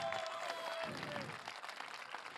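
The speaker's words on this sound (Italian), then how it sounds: "Applausi" A crowd at an open-air political rally in a city piazza claps in a brief, faint burst of applause. Some voices mingle in the background.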